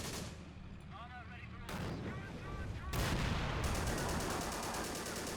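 High-explosive shell blasts in the war game Men of War: Assault Squad 2 arrive as two sudden heavy bursts amid rattling gunfire, with loud, dense battle noise continuing after them.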